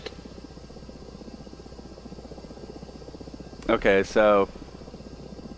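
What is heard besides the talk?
Mi-8 transport helicopter in a video game mission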